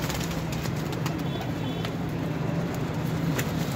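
Soft, low pigeon cooing repeats steadily under a constant wash of outdoor noise and passing traffic.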